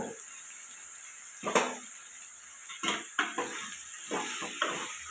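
Brinjal pieces frying with salt in a pan: a steady bright sizzle runs throughout, punctuated by several sharp clinks and scrapes of a spoon stirring against the pan.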